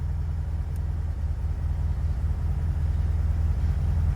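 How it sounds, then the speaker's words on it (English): A 1971 Volkswagen Beetle engine idles after an oil change and generator replacement, a steady low rumble with an even, continuous throb, close and unbroken. "All right, engine's still running."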